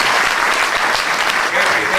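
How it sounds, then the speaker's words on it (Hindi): Audience at a Hindi-language LIC agents' seminar bursts into loud, sustained applause, a dense wash of clapping that stays steady and full for the whole stretch, with faint voices mixed underneath. "इनके लिए ताली बजा दीजिए।"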